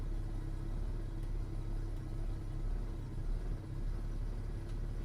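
A car engine fitted with a Sniper 2300 EFI and a venturi restrictor plate idling steadily, a loud, close, low rumble that holds an even tone throughout with only slight surging.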